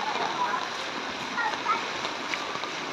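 Children splash in a flooded street in Navotas City during Typhoon Carina, steady rushing and splashing of water filling the clip, a broad watery wash with scattered splatters close by.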